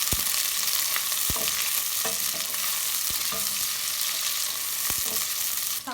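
Onions fry in hot oil in a heated pot, a steady dense sizzle running throughout, punctuated by several sharp clicks and scrapes of a spoon stirring against the pot, close by with no talking.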